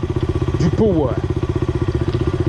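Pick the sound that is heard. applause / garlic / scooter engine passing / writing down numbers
scooter engine passing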